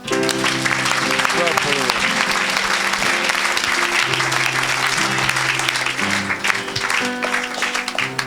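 A church congregation applauding loudly and steadily throughout, dense clapping with voices and music tones mixed underneath.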